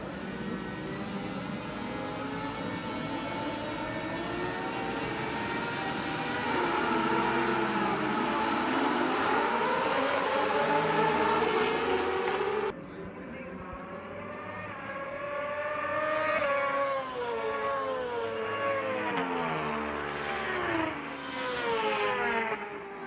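Race cars roar around a track during a dash-for-cash event, a continuous loud engine drone rising and falling as the field passes, with a sharp shift partway through as the pack moves away.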